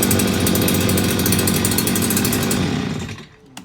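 A brush cutter's small two-stroke engine, started while still warm, roars loudly and steadily up close for about three seconds, then cuts out and falls silent.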